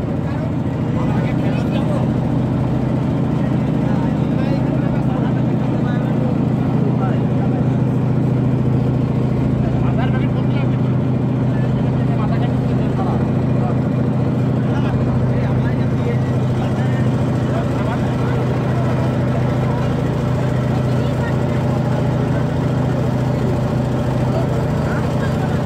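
Large trawler boat carrying passengers on a river journey, its engine droning loud and continuous with a deep, steady low hum and broad mechanical noise throughout, voices talking faintly beneath.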